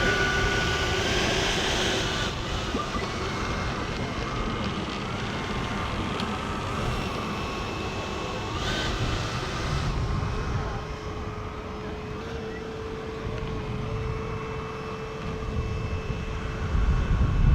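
Radio-controlled model jets taxi on a runway at a jet meet, a steady whining turbine roar that holds throughout with shifting tones, while people talk faintly in the background.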